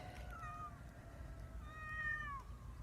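A cat meows twice, thin drawn-out calls, faint over a low background rumble.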